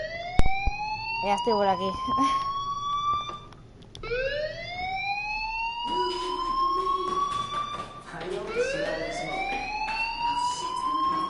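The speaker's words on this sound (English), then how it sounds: "Hey, do you hear that fire alarm? That means you should be outside." A school fire alarm in the video game Life is Strange wails in rising sweeps that repeat over several seconds, with voices talking over it.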